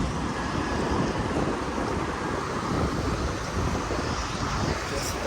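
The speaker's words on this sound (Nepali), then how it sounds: "शीतल हावा चलिरहेको त्यहाँ सिरिर बदर चलिरहेको, हावा चलिरहेको" Cool wind blows hard and steadily, a loud continuous rushing roar buffeting close to the microphone with no break for over five seconds.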